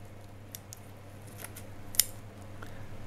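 Scissors snip rotten bulbs off an orchid, one sharp, close cut standing out over a faint steady hum in an otherwise quiet room.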